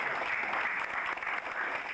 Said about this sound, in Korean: 네, 박수 한번 해주시죠.